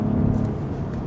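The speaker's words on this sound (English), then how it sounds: "Man, I can maneuver this car." A Cadillac CT4-V Blackwing hums steadily at low pitch while maneuvering on the road, an even engine and road drone heard from inside the car.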